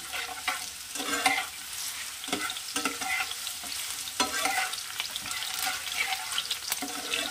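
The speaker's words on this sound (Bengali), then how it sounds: "একটা তেজপাতা 2-8খানা করে কেটে দিয়ে দিলাম" White cumin seeds and a torn bay leaf sizzle in hot oil, a busy close crackle broken by repeated spoon scrapes and clinks against the pan.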